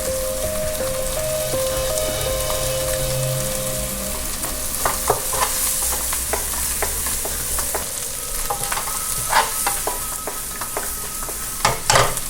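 Butter sizzles in a hot frying pan during an eel cook, giving a loud, constant crackling hiss with occasional sharp pops and spits.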